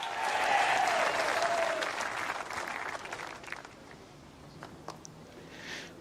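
A responsive home crowd applauds players introduced at the World Bowls men's fours final between New Zealand and Australia, dense clapping that starts loud and gradually thins and fades to scattered claps.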